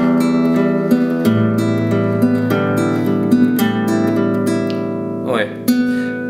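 Acoustic guitar fingerpicking exercise for right-hand finger fluency, with plucked strings in a steady repeating arpeggio pattern that rings out clearly and close, with a brief sliding squeak near the end.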